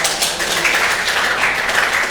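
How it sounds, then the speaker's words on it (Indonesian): Classmates clap for a student in a classroom, a loud, dense burst of hand claps sustained evenly across the whole stretch. "Oke, tepuk tangan buat Martian."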